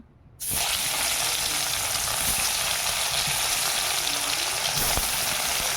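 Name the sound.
stirring fish curry frying in a pan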